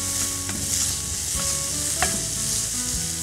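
Leafy greens fry lightly in a pan with a soft, continuous sizzle, broken by a few sharp clicks and scrapes of stirring.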